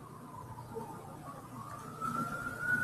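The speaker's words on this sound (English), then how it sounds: "I hear sirens" Police sirens wail faintly in the distance, a steady rising tone that grows a little louder toward the end over a low background hum.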